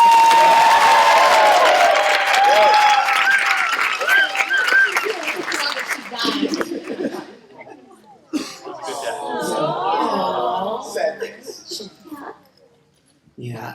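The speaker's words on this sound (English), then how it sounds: "let's applaud" A convention panel audience applauding, with a burst of loud clapping, cheers and shouted voices over the first several seconds before it fades. Voices carry on talking and laughing afterwards.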